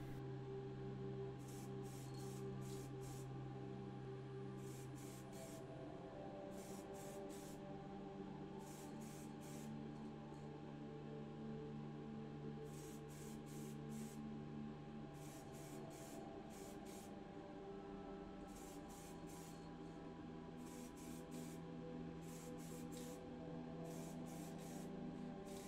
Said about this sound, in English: The bottom plate with the driver is sprayed in ruby red.